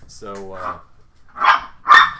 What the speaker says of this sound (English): sorry about the barking dogs.